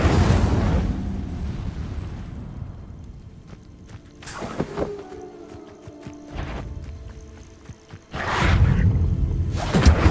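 An Incendio fire spell in a Harry Potter video game bursts in a loud roaring whoosh at the start that fades out, with later sharp crackling bursts and another strong blast near the end.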